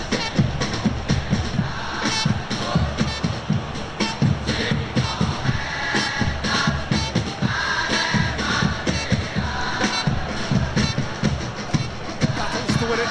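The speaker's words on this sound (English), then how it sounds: "Well, the crowd clearly like what they just saw." Stadium crowd in the PES football video game, a dense, steady roar of massed voices with chanting surges and rhythmic pulses, loud and continuous throughout.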